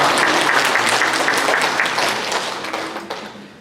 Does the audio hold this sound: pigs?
no